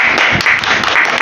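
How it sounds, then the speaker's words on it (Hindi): Close, loud clapping from a crowd at a children's competition prize-giving held on the ninth of Muharram, a dense, brief burst of applause with uneven hand-claps throughout. "ये पहला प्राइज़ महमूद के लिए, महमूद के लिए तालियां।"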